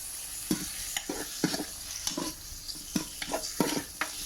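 A spoon stirring Japanese-style Yamamori black soup shabu in a pot, about ten rhythmic close scraping strokes over a light, steady sizzle, with no talk.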